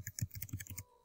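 Quick burst of typing on a computer keyboard, about a dozen light, close clicks in a rapid, uneven rhythm that stop abruptly, with no voices.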